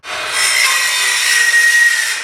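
A saw cuts through a 1x3 wood board during a garage door jamb repair: a loud, close, steady rasp that rises quickly at the start and runs on evenly with no talking.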